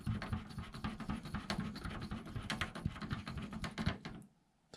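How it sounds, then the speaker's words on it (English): A 3mm screw is driven into a plastic RC car anti-tuck body mount, giving a close, continuous gritty scratching and clicking with irregular small ticks that stops abruptly near the end, no voices. "So now take another 3mm screw. We're going to screw that in here like so."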